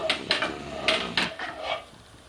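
A spoon stirs lightly salted water heating in a pot, giving half a dozen sharp metallic clinks against the pot at an uneven pace, close and fairly loud, then trailing off.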